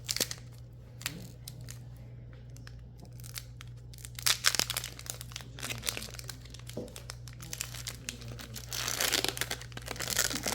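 Foil wrappers of Pokémon Temporal Forces booster packs crinkle and tear open close to the mic in a run of sharp rustling bursts, alone with no talking.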